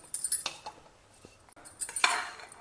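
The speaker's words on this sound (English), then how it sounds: "Again mix everything well together." A spoon clinks and scrapes against a metal vessel while tamarind rice is mixed, in two bursts of quick clattering strokes separated by a quieter pause.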